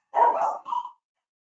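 A dog gives one short, fairly close bark in two quick parts, a little muffled, heard alone with nothing else around it.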